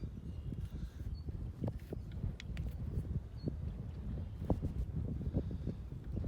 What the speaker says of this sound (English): Got a 20-mile-an-hour gust right now.